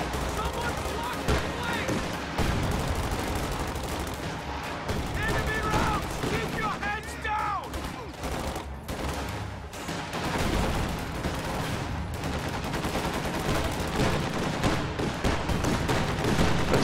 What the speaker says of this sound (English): AA half-track is getting really aggressive, and it caught a Schwer Panzer headquarters setting up.